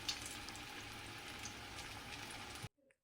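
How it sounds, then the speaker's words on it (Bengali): Food frying in a pan in a home kitchen gives a steady, close sizzle with crackle that runs evenly for a few seconds and then cuts off abruptly into near silence. "ততক্ষণ এটা ভাজি।"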